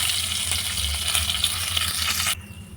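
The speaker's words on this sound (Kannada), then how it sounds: "ಎಣ್ಣೆ ಬಿಸಿ ಆದಮೇಲೆ ಜೀರಿಗೆ ಮತ್ತು ಕಾಳು ಮೆಣಸು ಹಾಕಿದ್ದೀನಿ ಜೊತೆಲಿ ಕರಿಬೇವು ಹಾಕೋತಾ ಇದ್ದೀನಿ" Cumin seeds, black peppercorns and curry leaves sizzle loudly in hot oil in a pan, a dense, close crackling hiss that runs steadily and then cuts off abruptly near the end.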